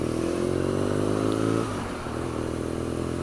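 A BMW R nine T motorcycle's boxer engine drones steadily while riding, loud and close, then eases off slightly about halfway through as the throttle drops.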